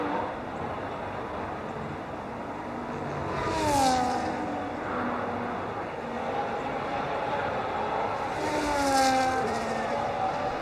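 Race car engines on a push lap at the Japan circuit in a racing game, a steady drone as two cars rise and fall in pitch through gear changes and pass by at moderate loudness.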